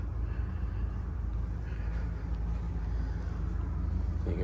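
A Newmar motorhome engine idling, heard as a steady low rumble with a smooth, constant drone and no change in pace, recorded close by with no voices.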